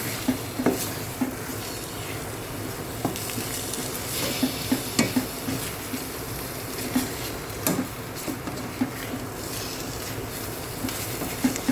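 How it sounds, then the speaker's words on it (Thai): Red curry paste with pork stir-fried in a pot over moderate heat for a Thai spicy winter melon curry, with a steady close sizzle and regular scraping spatula strokes, and no talking. "เนี่ยผัดไปไฟแรงก็ไม่ต้องแรงมากนะเพื่อนเดียว หม้อไหม้เครื่องแกงจะไหม้"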